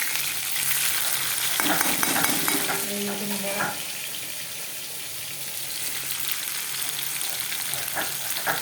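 Fish frying in a pan gives a steady, loud sizzle throughout, with a few soft scrapes and clinks of stirring partway through.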